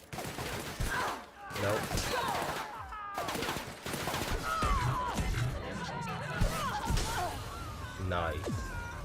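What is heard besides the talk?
gunfire in a video game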